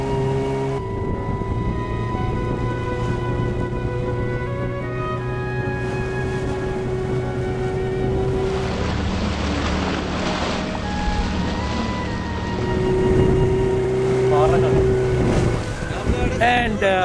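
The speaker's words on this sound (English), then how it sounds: "Similar to the experience in this open boat journey." An open boat travelling on water near Dharmadam Island, its motor droning steadily throughout with wind buffeting the microphone and a brief higher tonal whine midway.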